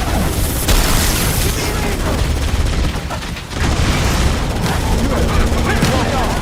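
Dense gunfire and booming blasts from a Halo campaign battle, continuous loud bursts filling the soundscape with a brief dip midway, while voices shout over the combat.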